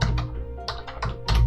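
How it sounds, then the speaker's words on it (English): Several clustered keystrokes on a computer keyboard come in short bursts with brief gaps, close and clear, with no talking. "And I'm just going to type in"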